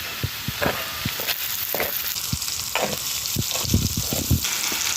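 Chopped onion frying in a pan for potato and chorizo gorditas, a steady close sizzle with repeated stirring scrapes and clacks throughout.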